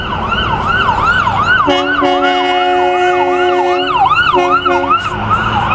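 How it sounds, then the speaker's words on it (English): Loud wailing sirens rise and fall repeatedly, with a second siren's steady tone overlapping midway, close by amid city traffic in Manhattan. "There we got sirens going."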